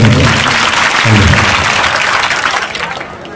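Audience at a Dr. Panjabrao Deshmukh birth anniversary inauguration ceremony clapping loudly and continuously, a dense close burst of applause that gradually fades toward the end.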